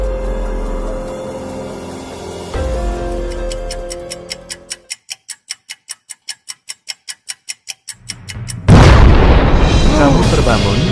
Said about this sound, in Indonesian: Kamu terbangun karena mendengar suara ledakan.